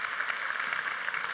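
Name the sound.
audience applause at a sustainable tourism conference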